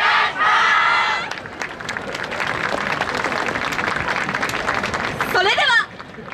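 A festival crowd at the Inuyama Tōgeisai dance festival claps and cheers loudly at the main venue, the dense applause holding steady for several seconds while voices shout over it and a few calls rise near the end.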